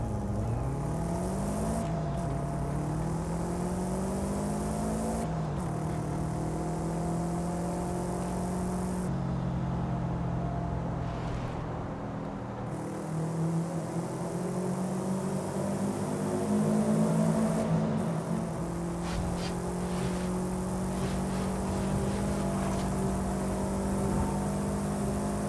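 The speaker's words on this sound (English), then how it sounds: "so I found this drop, the Subaru WRX, around the village nearby" Subaru WRX engine in a video game, a steady drone that rises and falls with shifting pitch as the car drives near a village, loud and alone with no talk.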